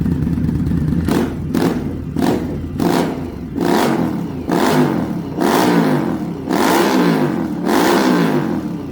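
A 2018 Indian Scout Bobber motorcycle engine runs close by, loud and steady, with a low thumping rumble that swells and dips in a regular rhythm of repeated revs.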